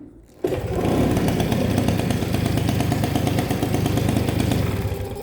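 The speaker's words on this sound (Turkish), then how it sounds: "Hadi bir motora bir ses verelim." A small Peugeot scooter engine starts up and revs loudly and steadily, buzzing close by for several seconds.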